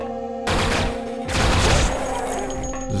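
Gunfire in Duke Nukem 3D on the Derelict level, with loud, dense bursts of shooting and booming impacts layered over steady tonal game noise, continuous for a few seconds.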